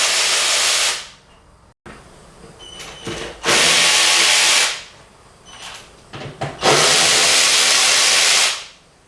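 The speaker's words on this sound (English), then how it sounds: "It's pretty helpful if you have one of these electric ratchets." Electric ratchet backing out screws on a Nissan 4.0L V6 engine, three loud whirring bursts separated by short pauses and quieter clicks.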